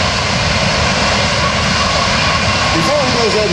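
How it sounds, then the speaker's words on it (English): C-17 Globemaster III jet engines at an air show, shifting from reverse thrust back to forward thrust, a loud, steady broadband roar filling the whole clip while an announcer talks over it. "the pilot is going to be dropping those reverse thrust levers forward, transitioning the engines back into forward thrust"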